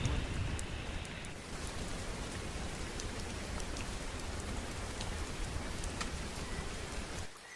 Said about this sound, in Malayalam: മഴ നിന്നാ? ചാറുന്നുണ്ട്,